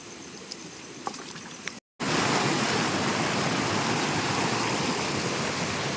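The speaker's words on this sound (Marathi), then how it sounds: "पाणी बघा वाहतोय" A forest stream rushes loudly and steadily at close range, a dense broadband wash of flowing water that starts abruptly after a couple of seconds of quieter outdoor ambience with a few faint clicks.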